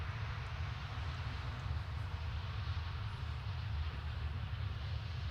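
A Ryanair airliner arriving from Rome at Manchester Airport, a steady low engine roar heard from a distance, faint and continuous, with no talk.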